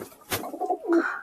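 Young Murshidabadi-type pigeons in a loft give a short low coo close by, with a brief rustle just before it.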